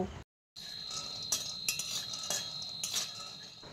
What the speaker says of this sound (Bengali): এবার কড়াইতে কিছুটা বাদাম ভেজে নেব